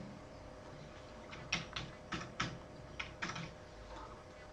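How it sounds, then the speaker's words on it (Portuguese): A postal code typed on a computer keyboard, a short run of about eight crisp, close keystrokes in an uneven rhythm over quiet room tone. "já vou digitar aqui"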